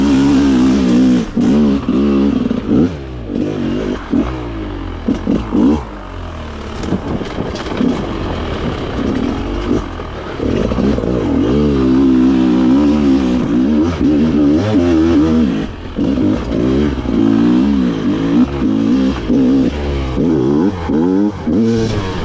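Hard enduro motorcycle ridden aggressively on a dirt superenduro track, its engine loud and close throughout with constant revving, rapid throttle blips and pitch swings, briefly easing off around the middle before pulling hard again.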